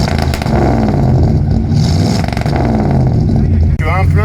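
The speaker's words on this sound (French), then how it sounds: "c'est l'échappement. Il est un peu libre, quoi." A 1955 Chrysler DeSoto engine with a non-original, free-flowing exhaust runs loud and close, a steady throaty rumble with a brief dip near the end, as people talk over it.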